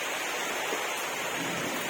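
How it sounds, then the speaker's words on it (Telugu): Heavy rain pours steadily during a stormy spell with strong wind, a dense, even hiss close by that fills the whole moment with no voices. "నిన్న నుంచి కూడా వర్షం ఫుల్గా ఉంది"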